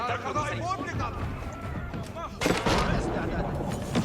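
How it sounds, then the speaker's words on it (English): Mangonel barrage in a real-time strategy video game: a muffled thumping impact swells midway, heard under continuous commentary and busy battle noise. "SortOf landing a nice barrage from the mangonel there"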